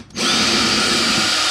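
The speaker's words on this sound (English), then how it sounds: "let's get under there and see how this drill works" HART 20-volt cordless drill/driver spins up abruptly after a brief quiet moment and holds a steady, loud whine to the end.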